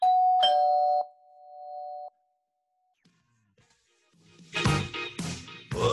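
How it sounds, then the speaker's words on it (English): A two-tone doorbell chime rings out clearly at the start, its tones fading away, followed by a short pause and then a few bursts of louder shuffling and voices or movement near the end. "That first doorbell wasn't for your pops, actually."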